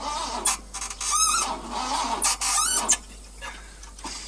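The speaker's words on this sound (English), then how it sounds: "piston in there like squeaking against the piston." A worn engine in a 1969 Ford F250 truck gives off repeated high, wavering squeaks and squeals over a rough mechanical rumble, the chirps coming in short bursts a second or so apart.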